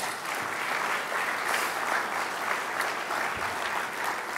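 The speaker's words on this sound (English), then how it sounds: "can everyone give them a round of applause?" A room full of people claps for ROTC students at a Navy keynote event, a loud, continuous wash of applause that stays level throughout with no speech on top.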